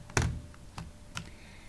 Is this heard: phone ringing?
no